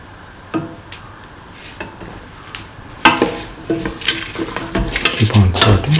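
Tomato pieces sauté in a pan for a snake gourd coconut milk stew, a steady sizzle joined by a few stirring scrapes, the frying growing louder and fuller midway through.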